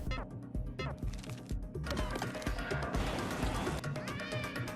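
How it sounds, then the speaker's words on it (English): Repeated cat meows and yowls rise over clattering, busy noise in the video game Travis Strikes Again, growing more insistent and drawn out toward the end. "you will hear her start to meow"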